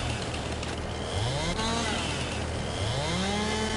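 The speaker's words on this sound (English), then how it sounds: "Coming out here on a chainsaw all day." A chainsaw cutting tree stumps in Farming Simulator 22 roars loud and close, its engine note rising and falling in repeated revs as it bites into the wood.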